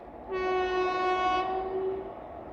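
A train horn sounds loud and steady for almost two seconds, a multi-tone blast, as a Vande Bharat Express (New Delhi–Katra) approaches to overtake the 14507 Delhi–Fazilka Intercity Express, over a constant rumble of rolling rail noise.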